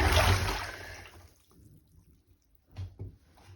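A bucket of water is poured over a big Lego set, a loud rushing splash that fades over about a second, followed by a few softer trickles and drips with a brief splash near the end.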